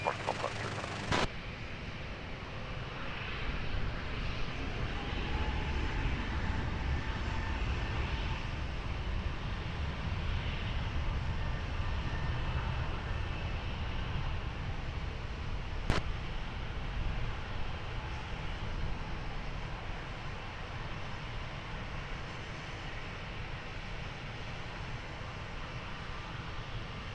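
An airliner takes off from runway 20 at Lisbon Airport, a broad steady roar of jet engines heard from a distance that holds for the whole stretch, with one brief click.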